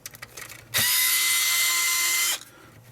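An electric screwdriver backs screws out of a ZX Spectrum 128k circuit board, making one loud, steady, high-pitched motor whine that lasts about a second and a half before cutting off. Faint handling noise comes before it.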